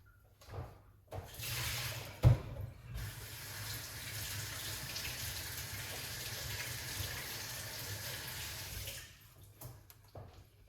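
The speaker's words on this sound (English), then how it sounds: "As you can see, this is a lemon. We're going to wash it off." A lemon is rinsed under a running kitchen tap, giving a steady, fairly quiet stream of splashing water that starts and stops, with a brief knock near the beginning and no talking.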